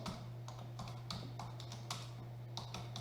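Keys clatter on a computer keyboard in a quiet room, a quick irregular run of soft taps over a low steady electrical hum.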